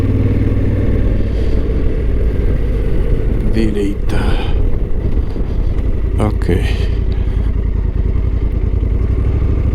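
A Honda Africa Twin Adventure Sports 2024 motorcycle on a test ride through winding roads, its engine droning steadily up close with brief clattering bursts, while a rider speaks briefly over it.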